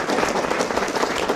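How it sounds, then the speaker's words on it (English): Crowd applause at an outdoor camp dedication ceremony, dense even clapping from a modest group, close and continuous for a brief moment. "can everybody give a round of applause?"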